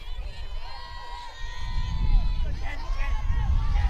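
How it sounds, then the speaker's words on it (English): Crowd at a regional softball game between Erie and Ponderosa, a loud steady hubbub of voices and shouts swelling midway, with cheering over the wash of noise. "The crowd noise here."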